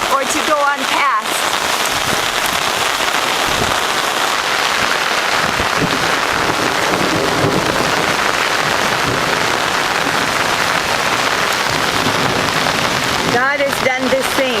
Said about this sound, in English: waiting for the storm to stop or to go on past